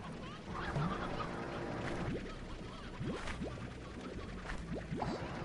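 Video game chickens in Slime Rancher cluck and squawk in short bursts over a steady background hum, several birds calling irregularly at moderate volume, with no voices over them.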